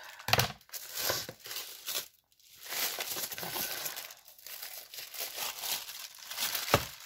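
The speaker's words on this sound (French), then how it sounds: "Je le déchiquete au lieu de le découper." Paper and tape packaging on a box being torn and shredded open by hand, with repeated close crinkling and ripping bursts separated by brief pauses.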